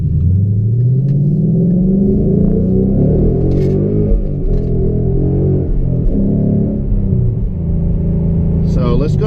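A 2015 Mustang GT fitted with a Gibson Performance exhaust cruises in sixth gear. Its low, steady exhaust drone fills the whole stretch, with a rising tone early on and faint interior rattles above it.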